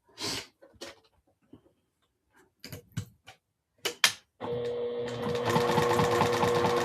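A sewing machine runs steadily, stitching a quarter-inch seam on a festive project, its dense mechanical whir starting after a few quiet handling taps and holding loud and continuous to the end.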